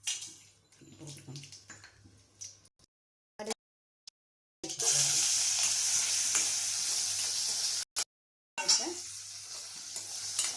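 Mustard seeds fry in oil for a veg sago (javvarisi) upma, with a loud bright hissing sizzle that starts abruptly after short silent gaps and earlier softer clinks and stirring sounds.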